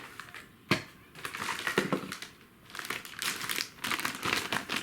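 A plastic bag from a Kyosho Mini-Z unboxing is opened and crinkled up close, with a sharp crackle near the start followed by repeated bursts of rustling and crumpling.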